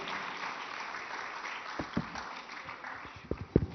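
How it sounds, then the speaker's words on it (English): Audience applause after a defence panel discussion, a soft continuous wash of distant clapping with a few sharper nearby claps toward the end, no talk. "let's give them a very, very warm round of applause for this"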